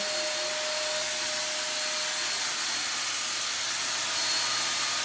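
A powered fogger used for school cleaning gives a constant, close hissing rush of mist with a faint whine, unbroken for several seconds and without any voices.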